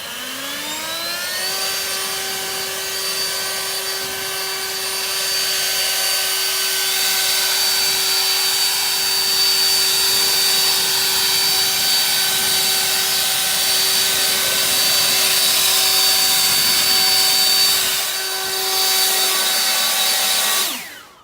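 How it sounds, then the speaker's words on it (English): An Ego 56-volt high-powered electric leaf blower spins up and runs for about twenty seconds as a loud, steady, close-up whine with a rushing airflow hiss, then cuts off abruptly at the end. "today we're going to take a look at two very high-powered electric leaf blowers"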